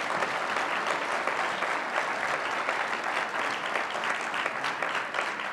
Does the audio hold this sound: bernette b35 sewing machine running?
no